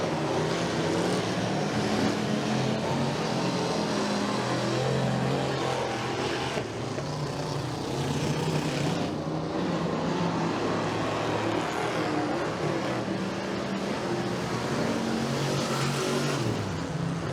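Hobby stock race cars battle for the lead through turns 3 and 4 at Bradford Speedway, a dirt oval. Their engines make a continuous, loud roar that rises and falls as the pack passes. There is no talk over it.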